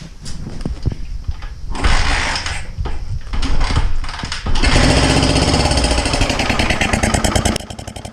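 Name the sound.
1980 Honda XL250S motorcycle engine running roughly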